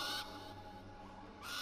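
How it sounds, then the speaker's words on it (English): In Far Cry Primal an owl hoots in a soft, low call that holds steadily for a second, quiet and fairly close, framed by brief bursts of hissing game ambience. "You call your owls now."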